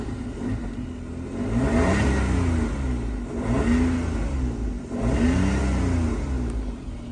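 A car that had sat unused for many days, now running and revving in repeated rising-and-falling surges over a steady engine rumble, close by and loud, with no talk.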